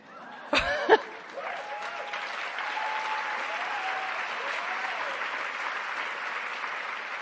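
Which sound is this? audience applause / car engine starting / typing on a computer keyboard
audience applause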